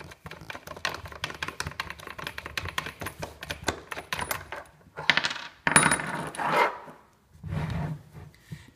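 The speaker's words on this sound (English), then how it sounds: "Then remove the bolts." Bolts come out of a magnetic drive pump as a tool turns them, with a rapid run of close metallic clicks and ratchet-like ticks followed by a few louder scraping clinks, and no talking.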